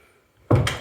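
Door into a guest room doubling as a gym thuds once as it opens or closes, a sudden close knock with a short rattle after quiet.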